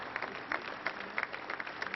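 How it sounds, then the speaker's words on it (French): A crowd at a ceremony honouring a traveller and artist, with French Navy honours, claps continuously in a steady, fairly faint patter of applause, with no cheering or talk. "Une salve d'applaudissements ininterrompue."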